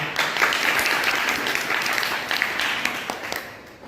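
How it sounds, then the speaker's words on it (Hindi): An audience at a Hindi poetry recitation claps in a full, dense round of applause that holds steady, then tapers off at the end. "ताली बजाई दो फिर।"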